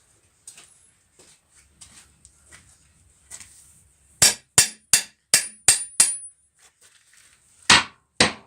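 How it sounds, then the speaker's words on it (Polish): A hammer strikes a wrench in a fast run of six loud, ringing metal clangs, then two more blows after a short pause, with faint clinks beforehand, during repair of a Kubota L4150DT tractor front axle. "Czyli klucz z młotkiem, tylko inny młotek trzeba wziąć."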